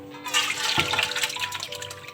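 Tap water runs steadily over calf liver being rinsed for Albanian-style fried liver, a continuous close splashing flow that swells after a brief quiet start and continues without talk.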